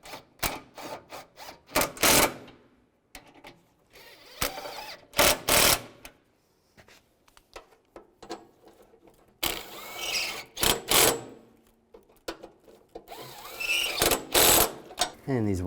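Bolts on the radiator cooling fan assembly of a 2006-2011 Cadillac DTS being tightened, with bursts of ratcheting clicks separated by pauses and handling noise, close by.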